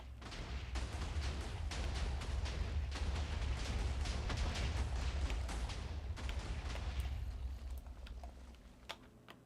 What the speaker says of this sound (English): I could probably just not use the pressure plate and just drop more TNT down there